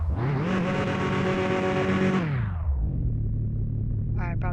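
Engine of an old car in the Mon Bazou video game cranks, catches and revs loud and steady for about two seconds, then drops to a lower continuous idle rumble with a brief rattling flutter near the end.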